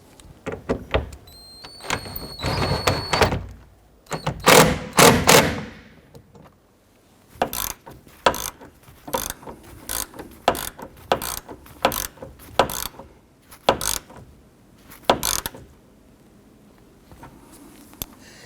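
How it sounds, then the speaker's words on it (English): A hand ratchet clicks in quick repeated bursts while tightening windshield cowl fasteners on a 1997–2006 Jeep Wrangler, with short pauses between runs, loud and close. "I'm going to go ahead and repeat this process for the other 2 on this side, and then we'll finish up by tightening down the other 3."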